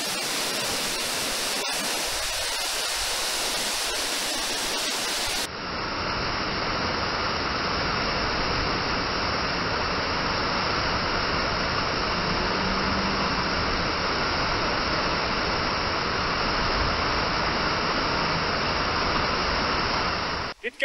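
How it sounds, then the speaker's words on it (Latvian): A waterfall in a rocky mountain setting near Kazbek, Georgia, roaring as a steady, loud broadband rush that fills the whole stretch without a break; a brief burst of wind buffeting sits at the start. "It kā jau ūdenskritums"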